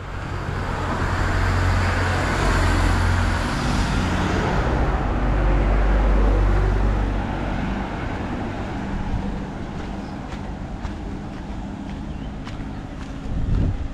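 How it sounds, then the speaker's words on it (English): Cars drive along a street in an Aruba neighbourhood on a Caribbean island, a steady, fairly loud roadway rumble with wind buffeting, continuous throughout with no talk. "Yeah, lots of cars, not a lot of people on the street."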